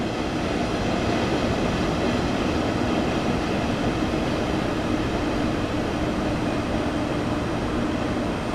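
A train pulls into a station in the Train Sim World game, a loud, steady rolling rumble with wheel and carriage noise sustained throughout, no voices.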